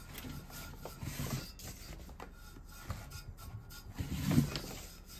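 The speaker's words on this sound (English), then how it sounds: "So I'm just going to lightly dry brush right on that pretty design." Paintbrush lightly dry brushing paint along the edge of a wooden scarecrow craft surface, a soft continuous rubbing and rasping with a brief louder scrub near the end, close and quiet with no talking.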